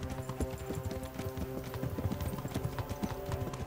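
Horse hooves clip-clop in a steady, rapid trotting rhythm in the medieval video game Kingdom Come: Deliverance, close and prominent over a sustained tonal backdrop, with no voices.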